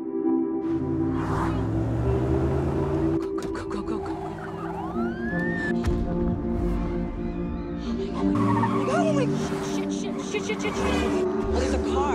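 In a film, a woman hallucinates and crashes her car; tires screech in long squealing sweeps over engine roar, with siren-like wails, loud and continuous, and voices under the chaos.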